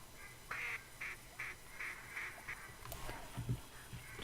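Ducks in the hunting video game The Hunter quack repeatedly in a short series of nasal calls at moderate distance, set against quiet ambient background, with a soft thump near the end.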